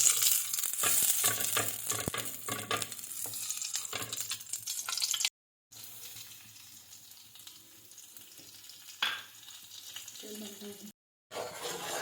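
Flour being roasted and stirred in a pan for linseed (alsi) pinni sweets, giving a steady sizzling hiss with scraping stir sounds, broken by two short silent gaps and some background voices.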